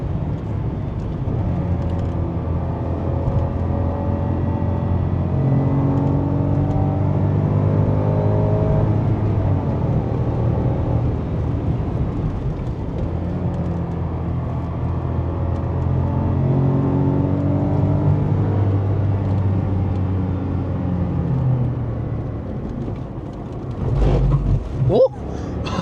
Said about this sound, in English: I messed up the downshift and I lost traction.